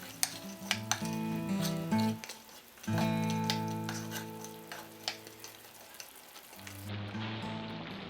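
Fried paneer added to a simmering tomato and cashew gravy for restaurant-style matar paneer sizzles steadily in the pan, with several sharp clinks and scrapes of a metal spoon against the pot, and no talking.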